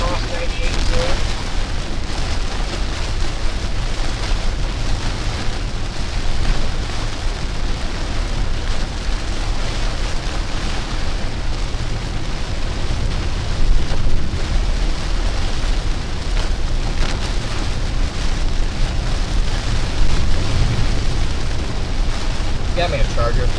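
Heavy rain pounds steadily during a tornado-warned storm near Monticello, Mississippi, along Highway 98, a dense, continuous roar close by with low rumbling underneath, as though heard from inside a moving vehicle.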